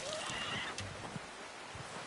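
A horse neighs in Red Dead Redemption 2, a short whinny near the start over steady ambient game background, with a few soft thumps afterward.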